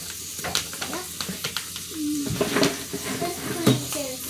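Food fries in a pan as it is flipped over, giving a sizzling bed under repeated scraping and clinking of a utensil against the pan, while people talk throughout.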